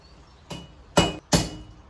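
Three sharp hammer blows strike a metal scissor blade against an edge to form a shoulder, evenly spaced and close, with the second and third louder than the first; no talking.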